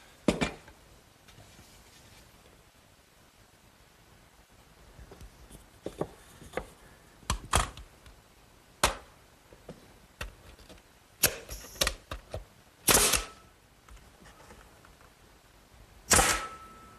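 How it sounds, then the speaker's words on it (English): Galvanized 6-penny finish nails driven into wooden garden swing slats, a run of sharp isolated hammer strikes, some single and some in quick pairs, spaced irregularly over a quiet workshop background. "I'll nail them in place with some 6-penny galvanized finish nails."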